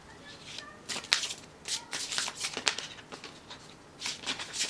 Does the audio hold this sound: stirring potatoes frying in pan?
no